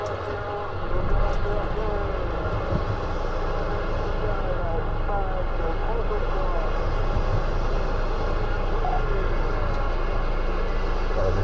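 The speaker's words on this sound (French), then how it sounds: "je vais démarrer un peu le camion là" A truck engine turns over about a second in, then settles into a loud, steady rumbling idle that runs to the end, with someone talking over it.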